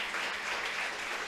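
A church congregation applauds, a dense, even wash of clapping from many hands in a large room, steady and moderately loud throughout.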